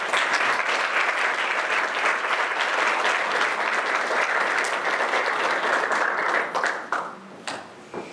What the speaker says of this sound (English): So I want families, staff, and everyone to applaud your success.